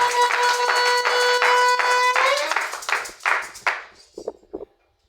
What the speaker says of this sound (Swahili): Est-ce que vous pouvez acclamer pour faire battre?